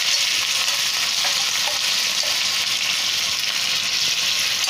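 Finely chopped grated onion frying in oil in a pan for restaurant-style pav bhaji, a steady loud sizzle with no pauses and no voices.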